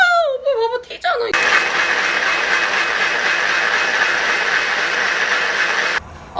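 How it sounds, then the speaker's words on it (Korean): A kitchen blender grinds beef with beef broth for baby food, starting abruptly after brief talk and holding a steady, loud whirring roar for several seconds before cutting off. "소고기 육수를 넣어서 믹서기에 요거를 갈아주면 됩니다."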